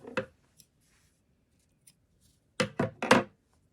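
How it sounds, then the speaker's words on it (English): Scissors snip through yarn at a crochet project, a faint early cut followed after a pause by three quick, crisp snips close by, with no talking. "And then cut the yarn."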